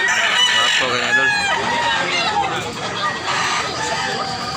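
Fighting roosters crow and cluck close by, several loud, strained calls overlapping in a busy yard while someone talks among background chatter.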